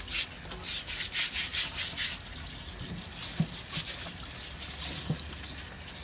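A green iguana's belly is scrubbed to remove loose dirt, producing close, rhythmic rubbing and scraping strokes in quick bursts, followed by a few softer scuffs and taps.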